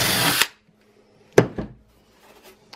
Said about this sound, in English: So we're just going to take our 3/4 and then just drill it through.